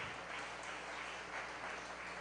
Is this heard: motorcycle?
no